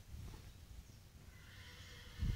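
Horses at a stable and training ground give a faint, distant whinny, with a low thump near the end, in a quiet setting.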